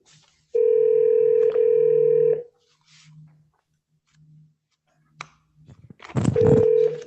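Telephone call placed over a speakerphone at a district court clerk's desk: a steady dial tone, a click, quick dialing tones, then a short ringing burst, all fairly loud with no talk.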